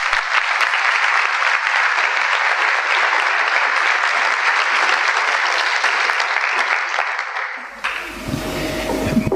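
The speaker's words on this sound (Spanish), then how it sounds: "brindamos el espacio a su fundador y lo recibimos con un cálido aplauso" Warm, dense applause fills a municipal auditorium as an alternative school's founder is welcomed, steady and loud for most of the stretch before it breaks off abruptly near the end, followed by a brief low rumble and a different room tone.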